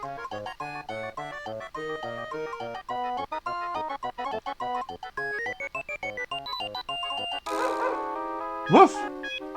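A cartoon dog barks once in WarioWare: Touched!, a short sharp yap near the end that rises above bright, steady game music.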